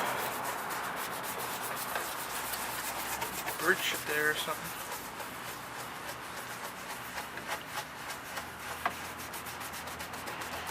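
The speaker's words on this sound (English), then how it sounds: "Now we'll use our good old-fashioned Oral-B toothbrush here." Brisk scrubbing of a car headlight with a soft-bristle Oral-B toothbrush, a steady rubbing rasp that continues throughout, with someone briefly speaking over it.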